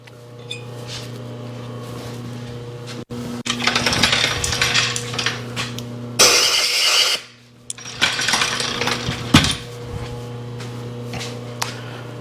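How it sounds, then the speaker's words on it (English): A Yamaha AT-1MX motorcycle cylinder head has the top of its spark plug threads deburred with a hand tool: uneven scraping and grinding bursts, with one brief bright rasp partway through, over a steady low workshop hum. "what I'm going to do is kind of deburr the top just a little bit so to make it easier to start"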